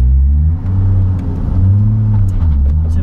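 A 1251bhp MKIV Toyota Supra with a six-speed gearbox revs hard in gear, a loud, close, deep engine roar rising and falling in two swells.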